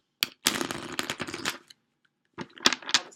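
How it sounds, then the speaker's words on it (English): Tarot card deck being shuffled, two bursts of crisp riffling and slapping cards, the first longer and the second short, up close with a brief pause between. "That was a terrible shuffle."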